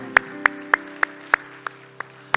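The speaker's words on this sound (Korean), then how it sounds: "우리 하나님께 영광의 박수합시다." A church congregation claps in unison during a worship service, about eight sharp, evenly spaced claps over a sustained instrumental drone.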